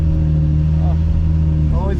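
A Lamborghini Murcielago with a muffler delete and secondary cat delete drones steadily from inside the cabin, a loud, constant low exhaust rumble with people talking over it.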